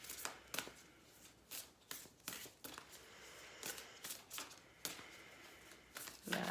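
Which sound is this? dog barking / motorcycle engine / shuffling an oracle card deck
shuffling an oracle card deck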